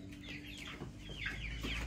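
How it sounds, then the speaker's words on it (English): Young backyard hens, not yet laying, cluck and murmur in a short run of soft calls at close range, with no talking over them. "chicken"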